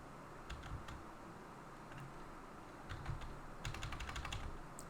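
Quiet bursts of typing on a computer keyboard, quick irregular key clicks in short runs with pauses between, heard alone.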